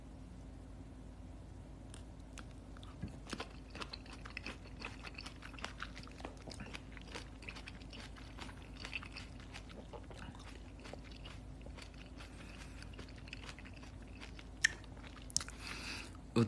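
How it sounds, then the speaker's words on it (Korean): Close, wet crunching and biting of juicy Shine Muscat grapes, steady chewing with soft squishes over a low background hum, and no talking. "샤인머스켓 먹고 있어요."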